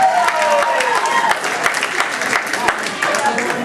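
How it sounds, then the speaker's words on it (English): Audience at a stand-up comedy show breaks into a loud, sustained round of applause, dense clapping carrying steadily with voices mixed in beneath it. "Be honest too, by a round of applause."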